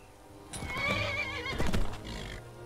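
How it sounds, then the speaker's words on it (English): A high-spirited horse in the Skyrim video game lets out a loud, close whinny, with a second neigh and a brief scuffle of hooves following, heard alone without talk. "That's a high-spirited horse I've got."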